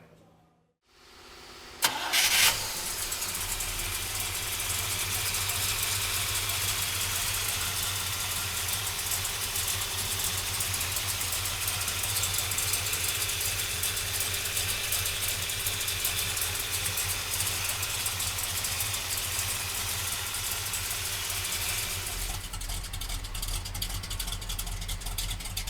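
A 1966 Chevrolet Chevelle with a 396 V8 cranks briefly after a moment of quiet, catches, and settles into a loud, steady, rumbling idle that runs on close to the microphone, ending with a low-end surge.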